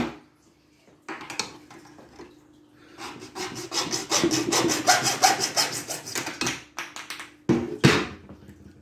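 Hand sawing through a short 6 cm length of plastic pipe for a homemade aquarium gravel vacuum: close, steady back-and-forth rasping strokes in bursts, pausing briefly, then a final louder flurry.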